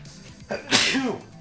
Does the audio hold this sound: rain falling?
no